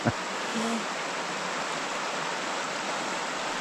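A continuous broadband rush of a mountain river flowing fills the scene, steady and fairly close, with no break in its hiss.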